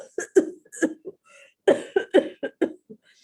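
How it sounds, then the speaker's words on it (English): Repeated close coughs, two quick groups of short, throaty bursts with a brief pause between them. "So he coughed and coughed and coughed again"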